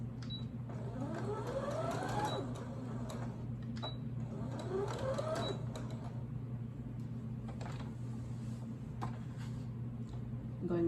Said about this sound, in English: sew along the edge of the dress